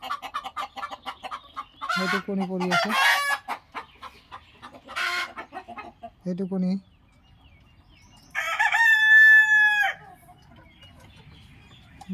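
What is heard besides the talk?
golden hen clucking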